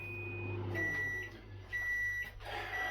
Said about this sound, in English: in the microwave you pop.